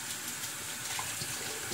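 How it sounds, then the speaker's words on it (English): Water poured from a tap into a bowl where a red snapper soaks, a steady splashing gush close by with no one talking. "Now, add a little bit more water."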